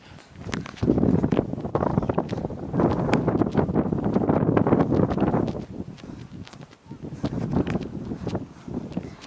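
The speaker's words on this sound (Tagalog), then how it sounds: "Naririnig nyo ba ang hangin?" Loud wind roars and buffets the microphone in long, heavy gusts on the summit of Mt. Balagbag, easing briefly before surging again.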